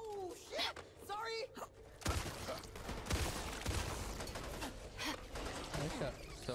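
Shotgun blasts in a video game, a burst of loud booming shots after a short quiet stretch, with game mechanism clicks and reload sounds mixed in and a voice talking over the action.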